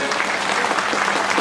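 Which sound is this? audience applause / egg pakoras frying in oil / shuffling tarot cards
audience applause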